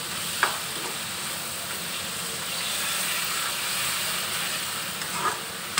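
Water goes into a pan of sizzling local chicken, giving a steady close frying hiss with small pops and crackles and a brief sharper burst near the start and end, no voices.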